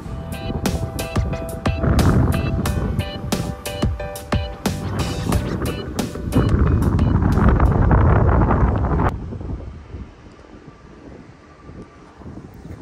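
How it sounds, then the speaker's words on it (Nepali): Strong wind buffets and roars loudly against the microphone in gusts, then drops away sharply to a quieter rumble near the end. Outdoors in Toronto, Canada, at about 10°C. "यस्तो बबाल हावा चलिरहेको छ नि"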